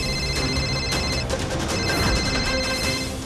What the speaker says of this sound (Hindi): सुमन फोन उठाओ, प्लीज फोन उठाओ